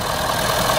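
A 2013 Ford F350 Super Duty King Ranch with a 6.7 liter Powerstroke turbo diesel V8 runs steadily at idle, close and even, with no voices.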